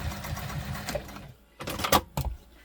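A sewing machine stitches backwards and forwards on a tote bag in short bursts of rapid mechanical whirring, separated by brief pauses, close and fairly soft.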